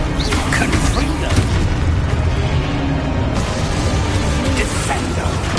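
A Confringo blasting spell explodes in the Hogwarts Legacy video game, a dense, loud booming burst that rolls on for several seconds with crackling debris over a constant low rumble.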